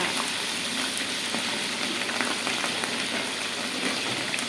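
Spices tempering in hot oil for a large batch of pulao make a dense, continuous crackling sizzle at even loudness throughout, close and without speech.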